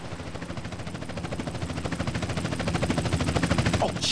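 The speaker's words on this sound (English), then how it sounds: "Chopper inbound!" A helicopter arrives in GTA San Andreas Definitive Edition during the Pier 69 mission, its rhythmic rotor chop pulsing steadily and growing louder as it draws closer, with no voices.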